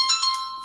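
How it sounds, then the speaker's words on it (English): A mobile phone ringtone plays briefly indoors. The electronic tone is bright and melodic, fairly loud and near, and it stops after a fraction of a second. "Sorry, that's my phone."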